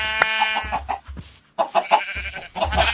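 Several Minecraft sheep bleating in quick succession, loud, close game sounds broken by a short silent gap, with mixed in among chicken-like clucks.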